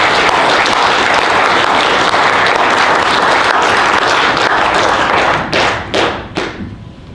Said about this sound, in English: let's give Dr. Homan a round of applause